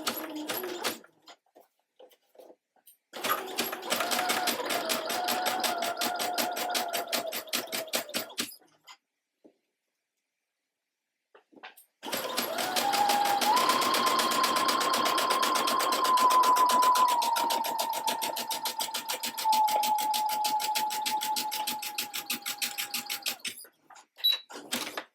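A sewing machine stitches lace for a thong in two long runs of rapid, even clatter, close and steady, separated by a few seconds of silence, with no talking.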